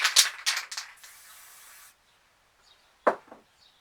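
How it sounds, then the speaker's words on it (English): White spray paint hisses from a can in a short steady burst of about a second onto fingers, preceded by rattling or tapping clicks and followed by silence and a single sharp knock. "spray a bit onto your fingers like that"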